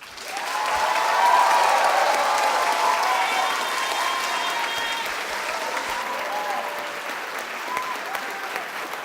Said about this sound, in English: I want an even bigger applause for all those people